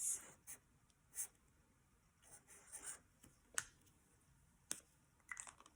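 Pen or marker writing on a classroom math worksheet, a faint scratchy scrawl with a few sharp taps and clicks, heard alone in a quiet room.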